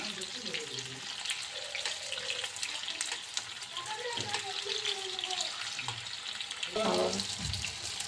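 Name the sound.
tofu frying in a pan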